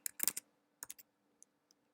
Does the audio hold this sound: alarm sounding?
no